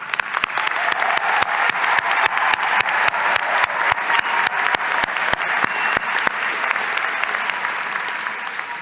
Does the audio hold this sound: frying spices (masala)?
no